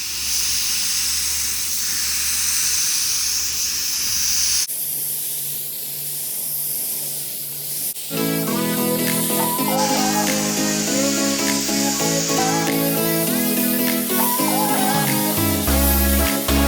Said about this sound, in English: Plug it up to your Harbor Freight gun and start shooting.